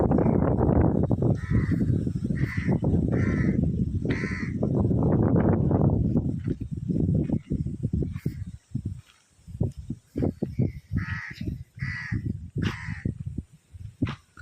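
Crows caw in several short clusters of harsh calls, loud and fairly close, first over a dense rushing background and later against quieter surroundings.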